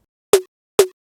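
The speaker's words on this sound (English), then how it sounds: "there is a snare that I believe is exactly from the Sophie pack" A Sophie pack snare sample hits twice, a short, punchy, bright electronic snare with a quick decay, evenly spaced and alone.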